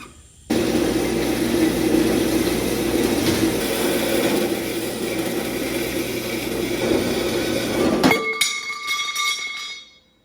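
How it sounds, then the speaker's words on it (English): A bandsaw cuts through a part in a garage while working on a 4Runner, a loud steady whine and rasp lasting about eight seconds, then cutting off and leaving a fading metallic ring. "Back to the handy dandy bandsaw."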